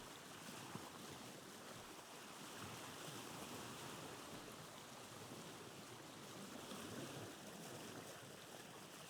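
Boat sailing across open water in the video game Vintage Story, a steady wash of waves and wind with a soft low rumble, continuous and even throughout with no talking.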